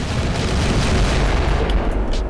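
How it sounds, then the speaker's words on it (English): Meteors exploding in a Unity game effect: a continuous loud, rumbling barrage of booming impacts with dense low-end roar, no pauses, a few brighter crackles near the end. "So we have this cool meteor shower effect going."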